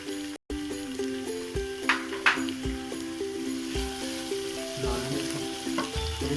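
Garlic and ginger frying in a cup of oil, a steady close sizzle under faint background tones, with occasional stirring scrapes.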